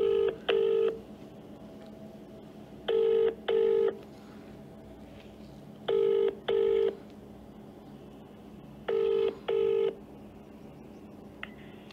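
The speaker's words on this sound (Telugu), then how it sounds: "జడ్సన్ కాల్ చేద్దాం" A mobile phone call is placed and left ringing. A paired ringback tone repeats four times at even intervals, each double burst clear and electronic against a quiet background, with no one speaking.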